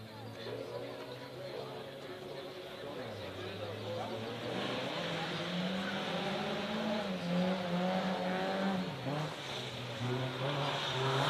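Drift cars initiating a tandem drift battle on a wet track, engines droning and revving continuously at a distance with pitch rising and falling, under a commentator talking.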